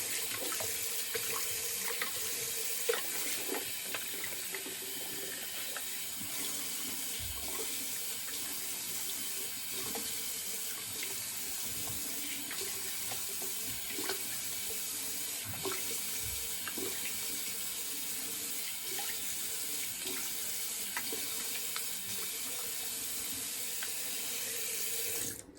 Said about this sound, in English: Get all this hair out of the sink.